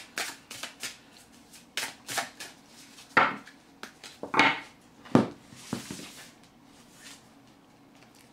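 Tarot cards are shuffled and drawn by hand, giving a close series of crisp slaps, riffles and flicks in an irregular rhythm, with louder snaps in the middle and no talking.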